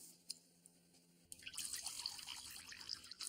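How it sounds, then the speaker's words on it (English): Water poured into a metal pie pan holding a penny, a steady splashing pour that starts abruptly partway through and continues close and moderately loud to the end. "I'm going to pour the water in."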